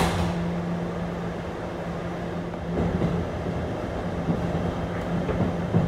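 An R211 subway shuttle train runs between Rockaway line stations, giving a steady loud rumble of wheels and motors inside the car with faint rail clatter.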